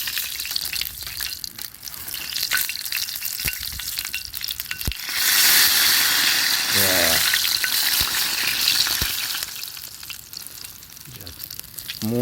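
Food sizzles and fries on a wire grill net over a winter campfire outdoors, a steady close crackling hiss that swells louder midway, with faint clinks and brief noises around it.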